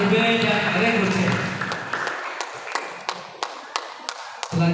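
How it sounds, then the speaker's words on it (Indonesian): Audience applause for quiz teams at a quiz competition session, heard as scattered claps tapering into sparse separate claps, with talk early on. "Tepuk tangan untuk Rego A, Rego B, dan Rego C."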